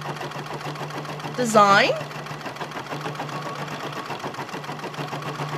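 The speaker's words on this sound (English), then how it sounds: "no matter how many times I do quilting, with my embroidery machine. It's mesmerizing." A Bernina 590 embroidery machine stitches a quilting design with a steady, fast mechanical whir and rapid needle ticking, continuing throughout while a person speaks briefly over it.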